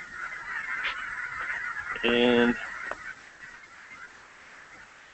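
Geese from a huge flock of thousands honk at a distance, a steady wash of calls with one louder, sharper burst of honking near the middle; a voice briefly speaks.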